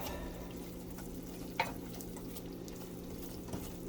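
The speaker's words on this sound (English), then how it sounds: "Stir it good. You don't want your roux to burn." A roux, made to thicken sauerkraut for roast pork, cooks in a pan with a quiet, steady bubbling sizzle as it is stirred, broken by a couple of soft spoon taps against the pan, with no talk.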